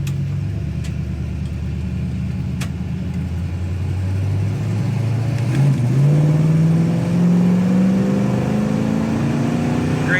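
A 1967 Chevrolet Impala SS 396 with dual exhaust rumbles steadily on the road, its engine note rising smoothly in pitch as it revs and accelerates, loud and close with no talk.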